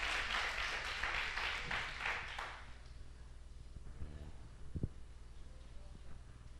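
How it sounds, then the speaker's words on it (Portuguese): A church congregation applauds together during a Portuguese-language worship service, a full burst of clapping for about two and a half seconds that fades into a quiet room with a few faint knocks. "vamos aplaudir o nome do Senhor"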